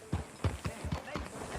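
Horse hooves clip-clop in Red Dead Redemption 2, five or six evenly spaced thuds over roughly a second and a half, close and moderately loud with no talk.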